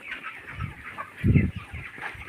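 Chickens on a poultry farm cluck softly as feed is scattered, with scattered close calls and one fuller burst of clucking midway.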